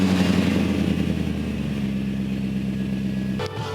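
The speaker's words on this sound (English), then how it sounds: "This is a very cold start on a 2002 BMW 540i." A 2002 BMW 540i V8 holds a loud, steady high idle just after a very cold start, its rumble dropping slightly in pitch partway through before a brief clunk near the end.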